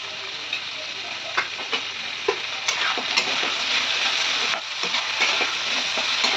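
Poppy seeds frying in a pan with turmeric and salt, giving a steady close sizzle with scattered crackles and light stirring taps, no voices.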